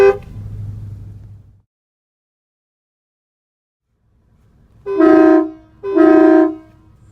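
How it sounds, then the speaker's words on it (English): Stock horn on a 2016 Chevy Silverado 1500 Z71 pickup with a 6-inch lift, sounded in two short loud honks about a second apart, each clear and tonal, after a quiet pause. "Sound of stock horn on Z71."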